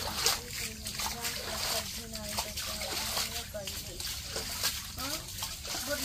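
Water from a flooded, muddy spot is scooped up with a bowl and flung aside, giving repeated sloshes and splashes close by while voices talk over it.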